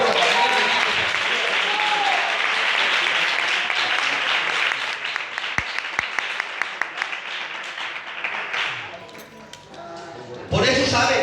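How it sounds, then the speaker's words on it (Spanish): A church congregation applauds during a service, a dense wash of clapping that thins and fades near the end, with a few sharp clinks and a voice breaking in at the close. "Si lo creéis, dale un aplauso al Señor"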